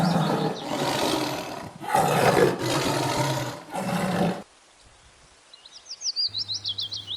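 A tiger roar sound effect: several loud, rough bursts over the first four seconds, then quieter bird-like chirps and a short rhythmic pulsing toward the end.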